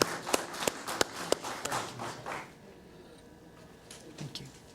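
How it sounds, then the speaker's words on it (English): Brief scattered clapping at a school board meeting in an evening session, a handful of sharp claps for a few seconds before fading into room tone. "let's give her a round of applause"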